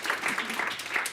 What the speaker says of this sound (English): maybe a round of applause for you